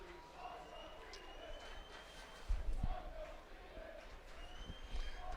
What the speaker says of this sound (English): the fans are chanting undefeated